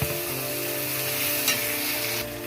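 Onion, green chilli and tomato fry with ginger and cumin paste in a pan, giving a steady, close sizzle with a brief stir or clatter partway through; no voices.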